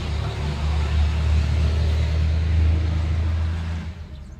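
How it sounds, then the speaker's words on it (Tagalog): Suzuki Hustler engine running at a steady low idle, a close, continuous rumble that holds for about four seconds before easing off. "To start engine."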